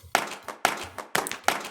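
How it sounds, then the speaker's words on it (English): Clap loop in a music track, four crisp, evenly spaced claps about half a second apart, each with a short tail and faint low thumps between. "We have this clap loop,"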